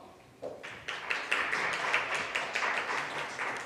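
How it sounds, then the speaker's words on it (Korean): A small conference audience claps to welcome a presenter to a decentralized finance session. The claps are sparse and loosely rhythmic and grow steadier after a quiet start, in a room with no talk. "여러분 큰 박수로 맞이해 주십시오."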